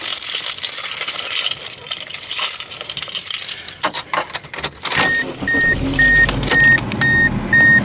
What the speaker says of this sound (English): 1990 style seat belts. Which I shall now